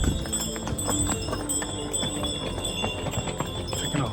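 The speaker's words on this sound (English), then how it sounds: "Taking a horse ride." Horse hooves clip-clop steadily during a horse ride in Santorini, Greece, a continuous run of close, fairly loud hoof strikes with busy outdoor background and faint bell-like tones.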